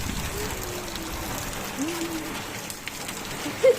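Rain falls at a home, a steady, even hiss of drops on surfaces throughout, with a faint bird call near the end.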